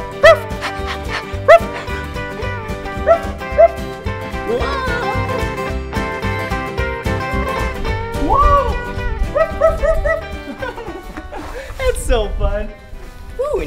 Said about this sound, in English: Look, this is where cow dogs stay.